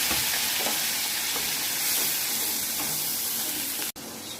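A leaf paste fries in hot oil with black cumin and a pinch of turmeric, giving a loud, continuous close sizzle with faint stirring and a brief bump near the end.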